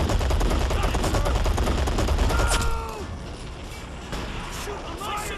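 Infantry gunfire in the real-time strategy game Men of War, a thick burst of rifle and machine-gun shots that drops to lighter fire halfway through, with voices shouting over the battle.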